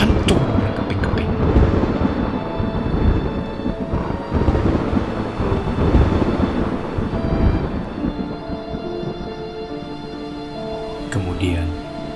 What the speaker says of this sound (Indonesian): Liau sambaran petir yang menggelegar.